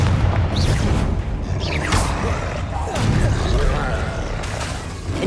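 Booming spell blasts in Hogwarts Legacy combat, a Confringo fire-blast among a chain of spells, loud and dense with rolling impacts and rumbling effects throughout.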